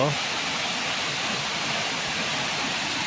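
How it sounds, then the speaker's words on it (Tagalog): A strong, steady rush of muddy floodwater in a river, a dense continuous roar like a fast current, with no pauses. "lakas na naman ng agos dun"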